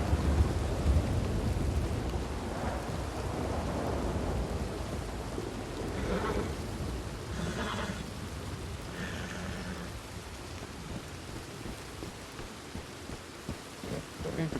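A thunderstorm with heavy rain in the video game Red Dead Redemption 2: a steady hiss of rainfall fills the whole stretch while deep rolling thunder rumbles underneath, swelling in a few places.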